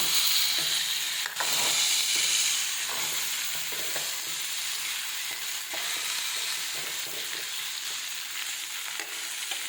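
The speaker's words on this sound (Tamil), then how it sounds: "இந்த எண்ணெயிலேயே வெண்டைக்காய் நல்லா வதங்கி வந்துடும்" Okra fries in plenty of oil in a pan, producing a steady bright sizzle with intermittent ladle scrapes and clicks as it is stirred, close up and with no speech.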